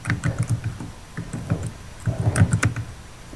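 Rapid clattering keystrokes on a computer keyboard during a Minecraft survival session, two dense bursts of typing close to the mic with a brief lull between.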